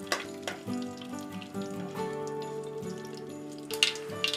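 Mustard seeds, urad dal and pepper spluttering in hot oil, a soft continuous sizzle dotted with faint pops, then a louder crackle near the end as more goes into the pan, with no talking.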